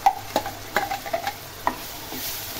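Masala and onion are sautéed in a pan, with repeated scraping stirs and a soft sizzle in uneven strokes close by.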